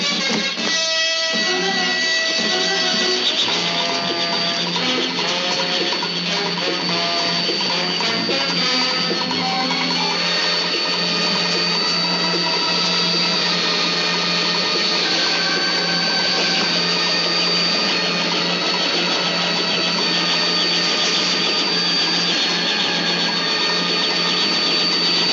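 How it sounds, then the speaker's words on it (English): A helicopter's loud, constant engine drone with a heavy rhythmic throb fills the whole stretch, steady and close, with no pauses. "A chopper!"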